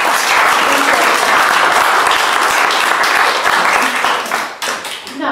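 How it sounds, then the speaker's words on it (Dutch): Dense, sustained applause from an audience at a cultural salon gathering fills the room, loud and continuous before thinning slightly near the end. "heel erg bedankt en applaus voor Marja"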